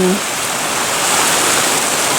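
Water running from a spring well at low flow during a dry spell, a steady close broadband rush of flowing water with no break.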